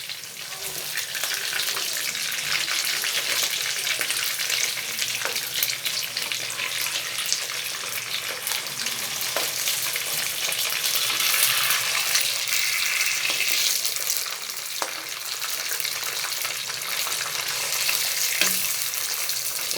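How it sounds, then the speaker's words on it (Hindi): Fish pieces fry in hot oil in a pan for fish korma, producing a dense, continuous crackling sizzle heard close up for about twenty seconds, with occasional faint clicks and no voices. "मछली को फ्राई होते हुए 2 से 3 मिनट हो चुके हैं और अब हम इसकी साइड चेंज कर लेंगे।"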